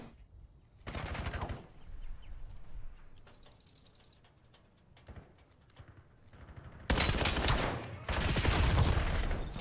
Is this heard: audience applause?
no